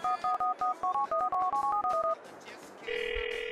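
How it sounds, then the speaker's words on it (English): Grand Theft Auto IV mobile phone menu navigation: a quick run of about a dozen clean electronic keypad beeps in an uneven rhythm, followed by a steady sustained tone and soft background hum, close and clear. "navigating through your phone"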